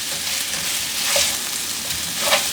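Rice frying in a pan for honey-soy chicken with basmati rice gets stirred, a continuous close sizzle broken by a couple of brighter scraping sweeps of the utensil, no talking.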